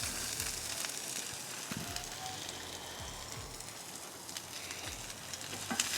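Chopped onions sizzle in olive oil on a Ninja Woodfire grill, a dense bright crackling hiss that runs steadily throughout, close and fairly quiet, with occasional faint stirring knocks.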